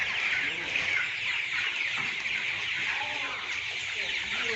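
Chickens in a broiler chicken house, a dense steady chorus of clucking and chatter from many birds at close range, continuous without pauses.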